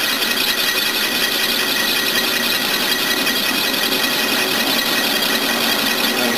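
A metal lathe takes a cut along a long rod, a steady, continuous whirring and grinding hum at an even level from start to finish, with no voices.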